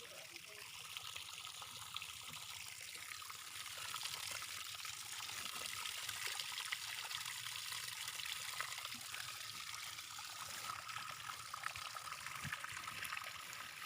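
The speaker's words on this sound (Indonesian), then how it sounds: "Tambahkan air bersuhu ruangan atau kalian bisa menggunakan air dingin atau air es." Room-temperature or cold water pouring steadily into a container for several seconds, a faint, continuous trickling hiss with no breaks and no talking.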